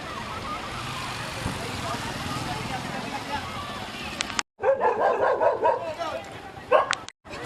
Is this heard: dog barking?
yes